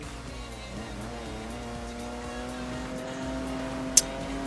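A car engine in the Need for Speed Most Wanted racing game holds a steady, droning high-revving tone throughout, with harmonic whine and a brief sharp click near the end, loud and continuous without speech.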